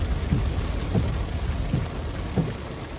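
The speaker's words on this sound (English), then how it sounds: "It's raining heavily in Nigeria," Heavy rain falls steadily during a flood in Lagos, Nigeria, a dense, constant wash of downpour with a few low rumbles that could be thunder, and no voices.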